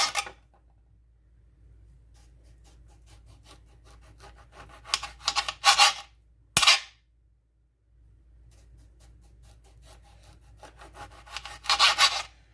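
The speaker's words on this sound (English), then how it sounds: "Okay, now we've juiced orange. Now we're going to slice these." A knife slices through juiced orange halves on a cutting board, giving a few short, close sawing and rubbing strokes in scattered bursts with quiet pauses between and no talking.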